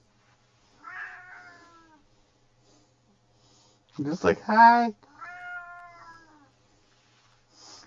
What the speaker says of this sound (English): Sometimes he goes meow